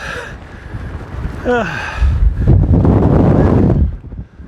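Strong coastal wind on a cliff path buffets the microphone in loud, rumbling gusts that swell and ease, with a brief breathy vocal sound partway through.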